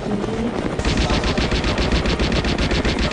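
Gunfire in a Baldi's Basics mod video game, a rapid continuous burst of loud machine-gun-like shots repeating steadily throughout, with a short quieter lead-in before the firing starts.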